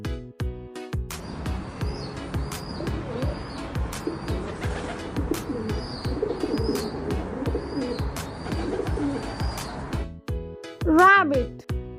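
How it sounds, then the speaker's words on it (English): Domestic pigeon cooing in soft, repeated low calls, mixed with chirpy bird sounds and other background noise, ending with a brief louder rising call near the end. "pigeon,"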